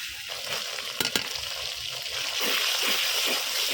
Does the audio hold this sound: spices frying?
yes